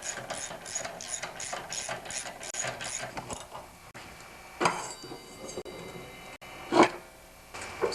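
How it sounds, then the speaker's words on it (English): An MTD snowblower's auger gearbox turns by hand, giving a steady run of close, rapid ratcheting gear clicks, then a few scattered louder knocks and clunks. "So now you should see the auger turning, and it does."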